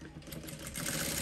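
A sewing machine stitching fabric in a tailoring class, a brief, faint, even whir of rapid stitching that grows slightly louder.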